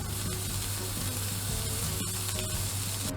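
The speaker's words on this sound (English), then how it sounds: "So we want to sear that side until it's brown." A picanha steak lies fat-cap down in a hot pan, searing with a loud, steady, close crackling sizzle that runs without a break for the whole moment.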